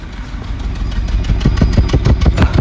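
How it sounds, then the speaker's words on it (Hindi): Maruti car engine misfiring while running, a close, loud rough idle with irregular chuffing pulses from the rear exhaust, no talking. "फील कर सकते हो ऐसी छू छू छू छू छू छू आवाज़ आ रही थी"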